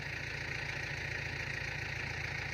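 A tractor engine runs at a steady, even drone while pulling a 3-disc plow through rice stubble, heard close and continuous, with no talk.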